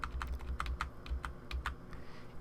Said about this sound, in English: using the cursor keys